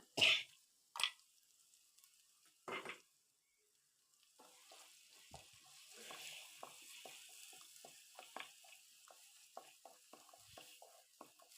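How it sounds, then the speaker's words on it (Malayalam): Ground spice paste fries and sizzles in a pan as it is stirred, with a few loud scraping strokes early on, then a steady, soft crackling sizzle broken by frequent small stirring clicks. "എന്നിട്ട് അതിൻ്റെ പച്ചമണമൊക്കെ ഒന്ന് മാറുന്നത് വരെ ഒന്ന് ഇളക്കി കൊടുക്കാം"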